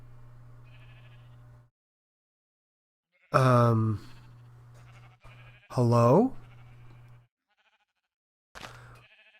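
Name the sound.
sheep bleating in a farm video game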